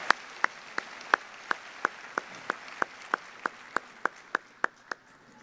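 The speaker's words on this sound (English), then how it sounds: "Will you please give these gentlemen a round of applause for their generosity and commitment to Kentucky FFA?" Clapping at the Kentucky FFA State Convention heard as a single, evenly spaced series of sharp, close claps in a steady rhythm, about three per second.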